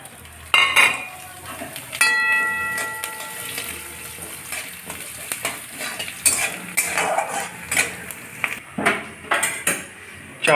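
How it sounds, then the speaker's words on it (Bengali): Gobindobhog rice frying in a little oil in a wok, a light sizzle beneath repeated scraping and clinking of a spatula against the metal, with sharp stirring knocks coming close and irregular. "চালটাকে ভেজে নেব।"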